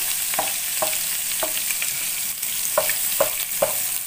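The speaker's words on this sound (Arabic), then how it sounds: "هنزل حبيبه قلبي بالكزبره بتاعتي كده. انا عملت الطشه" Coriander tasha for Alexandrian-style liver sizzles loudly in hot fat as a close, constant frying hiss, with repeated light clicks of stirring running through it.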